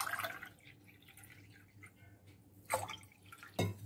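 Water is poured into a small pot to make a black seed decoction, heard as a few faint, brief splashes and drips, quiet and close.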